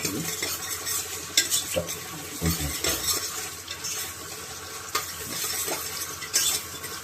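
Green chillies fry with onions in a pan for egg biryani, a steady sizzle running throughout while a utensil stirs and scrapes at irregular moments, close and fairly loud, with no talking.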